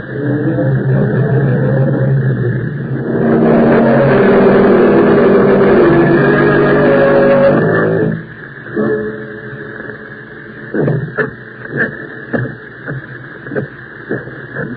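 Old-time radio drama sound effect of a car starting up and driving off, a low engine rumble swelling over several seconds, then fading into quieter clicks and knocks on the lo-fi broadcast recording.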